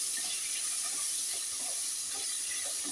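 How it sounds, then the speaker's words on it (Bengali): Potato pieces fry in hot oil for a cabbage curry, spattering right after salt goes in, giving a steady, fairly faint hiss and crackle with no talking. "এবার আমি ওটার মধ্যে একটু লবণ দিয়ে দিয়েছি, খুব ছিটাচ্ছে।"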